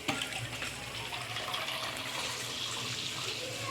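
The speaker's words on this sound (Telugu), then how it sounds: "కావాల్సినంత క్వాంటిటీగా వాటర్ వేసుకోండి" Steady rushing of water poured in a continuous stream, splashing into a vessel with no pauses or voices.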